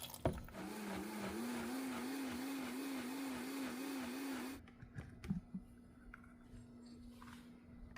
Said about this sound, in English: I'm just going to cover that up and continue to puree very well